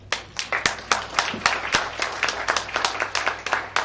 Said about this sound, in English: Can you give yourself a hand for that?